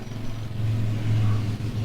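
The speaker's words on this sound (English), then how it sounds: "That's a fucking motorcycle." A motorcycle passes by outside, a steady mid-pitched engine drone rising slightly and then fading, distant and muffled, with no speech over it.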